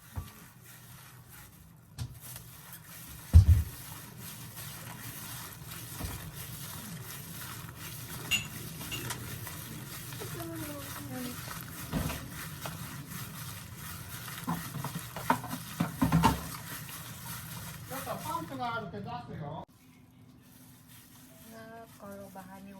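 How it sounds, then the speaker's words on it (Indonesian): Stirring a seasoned mixture with pepper powder in a pan in a home kitchen, soft continuous scraping and light sizzling with occasional utensil clinks, steady and close, with faint voices in the background. "Lalu kita kasih lada bubuk dan penyedap secukupnya sesuai selera. Nah, kita aduk-aduk ya dia ya sampai merata."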